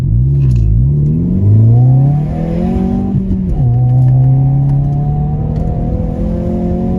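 An electric Kia Soul accelerates along a straight during a test drive, its close, loud whirring drone rising steadily in pitch, dipping once briefly, then climbing again for several seconds.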